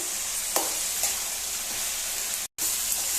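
Brinjal pieces with turmeric fry in a pan with mustard seeds and cumin, giving a steady close sizzle with a few soft stirring knocks and a brief dropout near the end.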